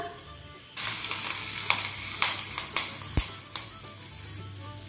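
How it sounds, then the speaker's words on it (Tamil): Hot tempering with curry leaves poured into chutney, a sudden loud sizzle that bursts in and continues with sharp crackles and pops, close up and with no talking. "இப்போ இந்த தாளிப்பை நம்ம சட்னியில் கொட்டிடலாம்"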